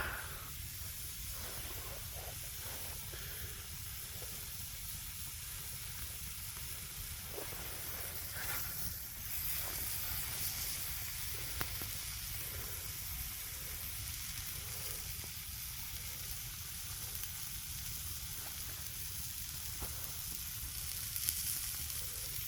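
A steady crackling sizzle of steak frying in a hot pan over a campfire continues throughout, with occasional louder pops and spits.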